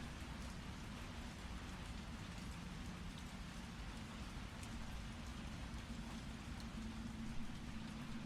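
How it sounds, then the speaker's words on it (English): Rain pattering steadily in the dark, a soft, even hiss of drops that holds without pause for several seconds, quiet and distant with no voices over it. "you hear shit. And it's pitter-patter of the rain."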